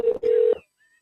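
Two short touch-tone dialing beeps while a telephone call is placed, close and clear with a brief gap between them, then silence.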